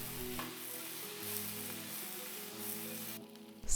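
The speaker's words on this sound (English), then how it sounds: "Drop in shrimp and celery, stir fry until just cooked." Shrimp and celery stir-fry in a hot pan for Kung Pao shrimp, giving a steady, close sizzle with low hum beneath, easing off briefly near the end before a sharp burst.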